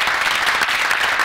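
Studio audience on the Dominican TV show La Cosa Como Es bursts into steady, dense applause, loud and continuous throughout the short stretch, with no voices standing out.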